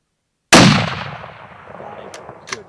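A single rifle gunshot rings out on a mule deer hunt, one sudden sharp crack that booms and echoes away over about two seconds, with faint talking at the end.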